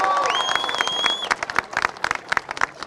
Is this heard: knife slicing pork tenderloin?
no